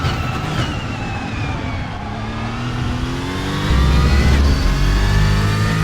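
An Aston Martin engine in the RaceRoom racing game revs and roars with rising pitch sweeps, growing louder and heavier near the end, with no talking.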